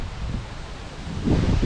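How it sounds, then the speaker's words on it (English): Gusty wind blowing through trees on a windy autumn day in Ohio, a steady broad rushing with leafy rustle that swells louder near the end, heard close and alone with no talking. "That wind is just blowing."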